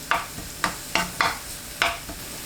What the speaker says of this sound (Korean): 빈 프라이팬에 식용유 1큰술, 다진 마늘 반 스푼, 파를 넣고 센 불로 켜서 30초 볶습니다.